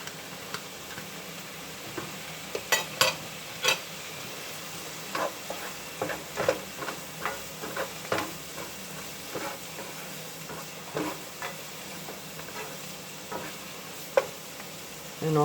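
Sun-dried tomatoes being stirred in a pan, giving a soft sizzle with scattered clicks and scrapes of a utensil spaced irregularly through the clip, moderately quiet with no talking.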